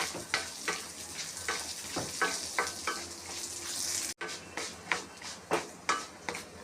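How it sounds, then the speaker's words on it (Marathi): Chickpeas are dry-roasted in a pan for curry leaf chutney, with repeated scraping stir strokes and a light, steady sizzle close by and fairly quiet, including one sharp clack partway through. "याच्यामध्ये फुटाणे टाकणार आहे मी ते पण छानपैकी भाजून घेणार आहे"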